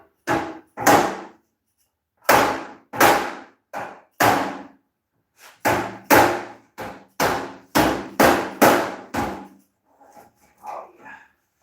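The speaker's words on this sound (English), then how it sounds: "I'm going to leave that little top corner and come back with a ball peen on that." A ball peen hammer pounds a race car body panel in a shop, delivering rapid, uneven bursts of sharp metallic blows in clusters, loud and close, ending in a few lighter taps.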